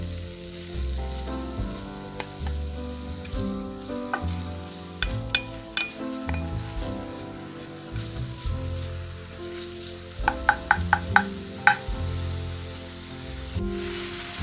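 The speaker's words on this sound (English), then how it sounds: "we're going to saute our onion for 2 minutes" An onion sautés in a hot pan, a steady sizzling fry with spoon scrapes and clinks, a quick cluster of sharp taps near the end, close and continuous with no talk.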